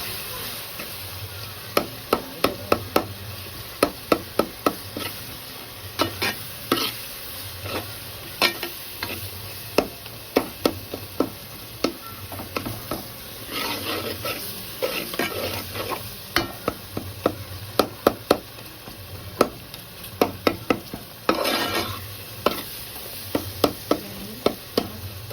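Tomatoes and spice powders for a fish curry stirred in a frying pan, with steady scraping and sharp clinks of the spoon repeating throughout over a low sizzle.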